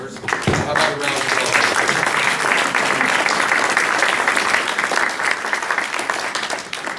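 An audience at a city council candidates forum breaks into applause, a dense, steady clatter of clapping that holds for several seconds before tapering off.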